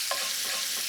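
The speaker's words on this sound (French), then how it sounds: "On voit bien que notre sucre est en train de caraméliser avec le beurre." Butter and sugar caramelize in a saucepan, giving a steady, close bubbling sizzle that runs without pause from start to end, with a faint stirring scrape and no voices.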